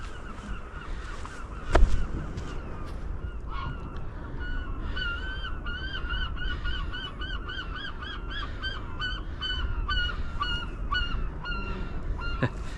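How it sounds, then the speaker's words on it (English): A seagull calls repeatedly by the sea at Jackson's Bay in Barry, a run of loud, rhythmic honking cries rising over steady wind and surf noise. "He's on good form, that seagull."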